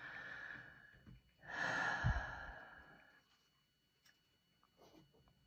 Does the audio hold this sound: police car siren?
no